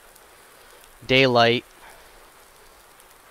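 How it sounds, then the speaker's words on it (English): Rain falls in Farming Simulator 19 on the Midwest Horizons map as a steady, faint hiss, with someone speaking briefly over it. "See if we can't get it to stop raining here as well."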